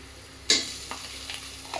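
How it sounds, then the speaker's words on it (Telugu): Ginger garlic paste frying in a pan for chicken pulao, with a sharp sizzling burst as it hits the oil, followed by faint stirring scrapes and soft sizzle for under two seconds. "ఇది స్మెల్ పోయేంత వరకు ఫ్రై చేసుకోవాలి. అల్లం వెల్లుల్లి, జింజర్ అండ్ గార్లిక్ పేస్ట్."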